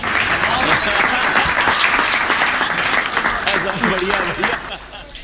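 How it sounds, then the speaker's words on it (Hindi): At a Hindi comedy poetry gathering, an audience breaks into loud, dense applause that holds steady before tapering off, with a voice faintly present beneath the clapping. "आप सब लोग ताली बजाना जी"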